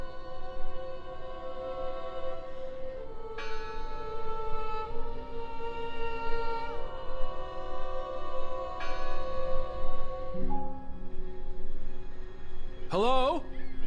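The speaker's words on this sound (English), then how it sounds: "Listen! The bell!" A bell tolls in the Draugen video game, its resonant, overlapping strikes ringing on and fading at a moderate level over steady ambient noise, with a brief sweeping tone near the end.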